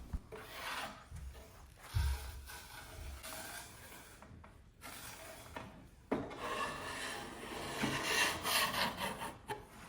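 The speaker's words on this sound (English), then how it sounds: "I move on to working on that trim piece and sanding it down to bare wood" Sandpaper rubs back and forth over wooden trim on a mid-century dresser, taking it down to bare wood: a close, rhythmic rasping scrub in uneven strokes with short pauses between passes.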